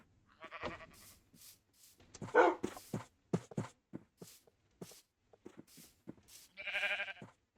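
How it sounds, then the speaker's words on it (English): In the Minecraft video game, a herding dog barks among sheep, short yaps mixed with bleating, spaced out and soft. "At least my herding dog's doing pretty good."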